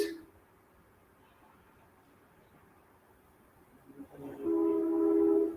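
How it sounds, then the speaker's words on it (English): A train passing at a distance, a faint low rumble that swells near the end as a steady horn blast sounds, with quiet room noise beforehand. "There goes the train again."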